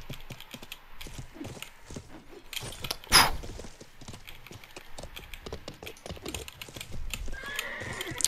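A video game horse snorts and whinnies amid busy clip-clopping hooves and clattering battle sounds, with a sharp loud crack partway through, no voices over it.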